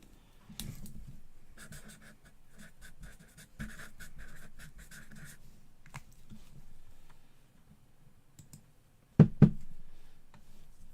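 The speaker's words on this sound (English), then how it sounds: "Let me write that down for you." Pen scratching out a name on paper during a trading card box break, soft irregular strokes in short bursts with quiet pauses, then a couple of sharper taps or knocks near the end.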